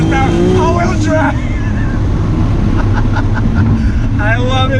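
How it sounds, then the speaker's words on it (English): Tuned 615-horsepower 1990 Nissan Skyline R32 with a straight-six engine and all-wheel drive, driving along a road in Mexico. The engine drones loud and steady from inside the car under rushing wind, with a few higher whistling tones. "There's nothing better than the sound of that straight six."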